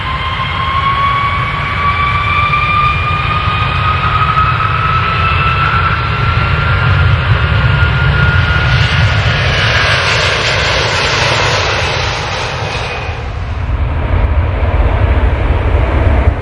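An airplane's engines roar steadily at takeoff, loud and close, with a broad rumbling drone and a rising whine that lasts throughout and fades slightly near the end.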